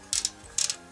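Ratchet joints on a TFC Toys transforming robot figure click as a limb is moved: four quick, crisp plastic clicks in two close pairs, near and isolated.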